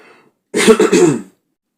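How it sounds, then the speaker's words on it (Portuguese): A single short cough or throat-clearing burst from a man, close and fairly loud, lasting under a second after a brief quiet lead-in. "Peço perdão para vocês pela tosse aí"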